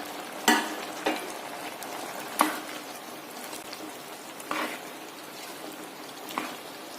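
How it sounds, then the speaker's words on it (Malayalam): Tomato and capsicum cook with beetroot in a spiced pan, a soft steady sizzle punctuated by several sharp spoon knocks and scrapes spaced a second or two apart. "ഇതിലേക്ക് തക്കാളി ക്യാപ്സിക്കം ചേർത്ത് വേവിക്കുന്നു."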